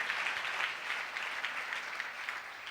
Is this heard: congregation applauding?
yes